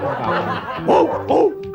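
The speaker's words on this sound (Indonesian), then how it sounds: "mama ada guguk, ada guguk" A dog barks at close range, with two or three loud barks rising over a busy background of voices and chatter.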